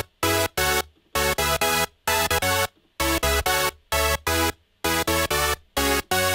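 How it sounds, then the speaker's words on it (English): Bright, buzzy supersaw chords from a Serum Hypersaw preset play in short rhythmic stabs, repeating in a tight pattern with brief silences between each hit. "It's just a serum preset which is called Hypersaw."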